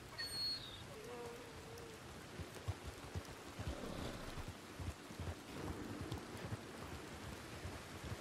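Steady rain hisses across the landscape of Red Dead Redemption 2 on the island of Guarma, a dense, even wash of drops with faint low rumble beneath, no talking over it.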